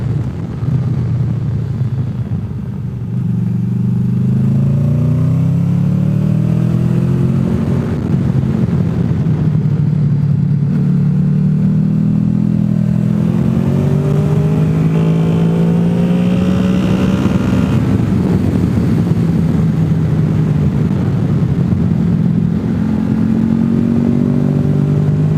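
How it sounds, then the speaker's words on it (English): Motorcycles pass by on the road at Deals Gap, their engines droning loud and steady with rising and falling revs as they ride past, no voices. "There are motorcycles"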